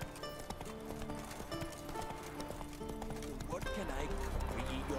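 Roach, a horse in The Witcher 3, gallops in steady clip-clop hoofbeats over a busy layer of game music and ambience, with a voice talking over it.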